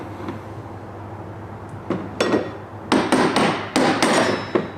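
A hammer drives a big punch against a fuel pump assembly on a 1993-2004 Chevrolet S-10 Blazer, giving about seven sharp metallic blows in an uneven rhythm, close and loud against a quiet hum.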